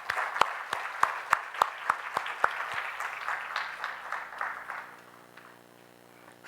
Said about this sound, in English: Big round of applause to all of them.